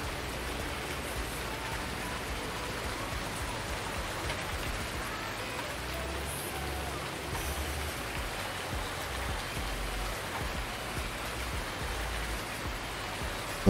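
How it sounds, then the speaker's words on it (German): Rain in the Farming Simulator 19 video game, a steady, even hiss of rainfall that continues unbroken throughout at moderate level, with no talking. "Jetzt regnet es wieder."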